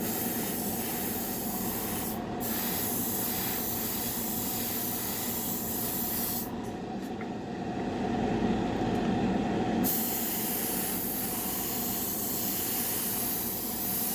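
Airbrush spraying paint onto the firewall of a 1932 Ford roadster inside a paint booth: a steady, close, continuous hiss that swells louder for a few seconds midway, with no talking.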